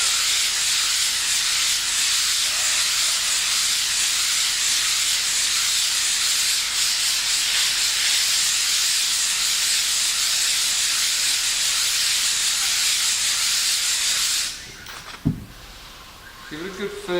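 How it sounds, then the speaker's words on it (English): Fine sandpaper rubs steadily across a flat patched section of wall, a continuous close hiss that runs without a break for about fourteen seconds before stopping, followed by a few light knocks and handling sounds. "Then just go to a really fine sandpaper."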